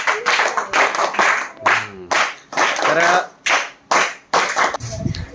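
A class of first-grade schoolchildren claps together to welcome two friends, producing repeated rhythmic bursts of loud applause with short gaps between them, while an adult voice speaks briefly.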